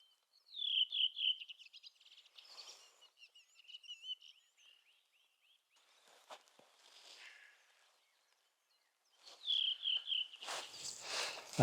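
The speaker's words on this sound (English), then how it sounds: "I think also at the same time there's a song thrush." Song thrush singing in a spring forest about 10 to 20 metres away, with repeated clear phrases in bursts separated by pauses, alongside other birdsong and a few rustling footstep-like sounds, no talking.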